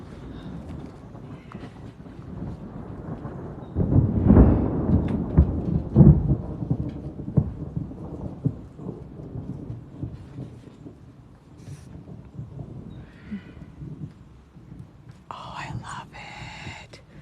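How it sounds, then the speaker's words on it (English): Thunder rumbles and rolls during a thunderstorm, a deep swell building mid-way, with rain pattering underneath and soft, hushed voices now and then. "This is the first thunderstorm we've had in probably like 3 or 4 years."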